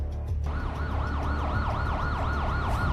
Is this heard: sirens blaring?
yes